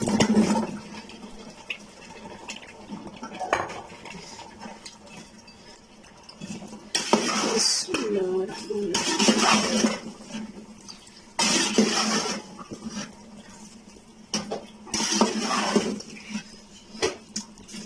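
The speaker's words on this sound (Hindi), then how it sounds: "और अब हम डालेंगे आलू।" Potatoes go into a pan of frying keema, bringing bursts of sizzling and clattering stirring in uneven waves, close and fairly loud.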